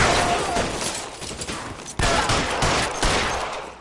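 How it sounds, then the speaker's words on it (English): Tommy gun bursts in the video game L.A. Noire, loud close rapid automatic fire in dense repeated volleys with brief gaps, continuous across the short stretch. "Tommy gun."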